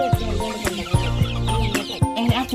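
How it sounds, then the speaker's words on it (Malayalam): Chickens and chicks kept at home clucking close by in busy, overlapping bursts, loud and continuous with no talking. "ഇതാണ് നമ്മളെ കോഴികള്."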